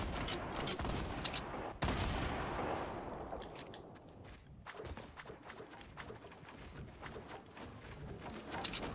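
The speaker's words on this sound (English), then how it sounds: "We're exploding his little base here." Rapid bursts of explosions and gunfire in Fortnite as a player's built base is blown up, dense and loud throughout, with a heavy blast near the start and crackling debris afterward.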